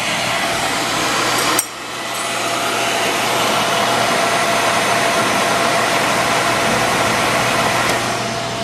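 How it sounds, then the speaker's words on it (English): Beckett oil burner blower fan running steadily through its post-purge cycle, clearing fumes up the chimney: a loud, even broadband whoosh with a faint low hum, briefly dipping once early, then holding constant. "I'm in post purge now for 30 seconds to get rid of all the fumes up the chimney"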